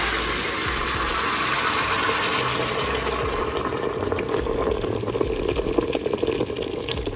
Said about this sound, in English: Now what you're going to want to do is add your boiling water.